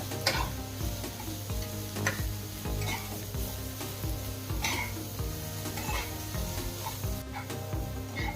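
Onion frying in oil over a high flame, a loud close sizzle with repeated spatula scrapes and taps against the pan in an uneven rhythm.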